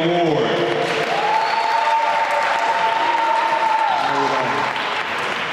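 Sustained crowd applause fills the room at steady volume, with a voice or tone rising over the clapping before it tapers slightly at the end.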